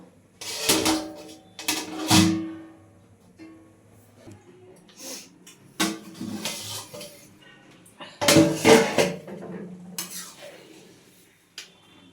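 A lid set down over a pot of bhuna khichuri, giving several loud metallic clanks and scrapes in separate bursts with quiet gaps between them.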